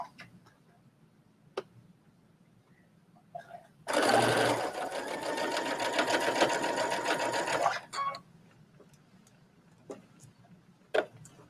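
A sewing machine stitches a seam on a trench coat in a sewing room, a loud rapid mechanical chatter for about four seconds, then a short second burst, with soft clicks before and after.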